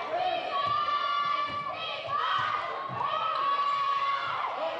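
A home crowd cheers at a women's basketball game between India and the Philippines, a steady moderate roar with a few shouts rising over it, plus faint thuds of a ball bouncing on the court beneath.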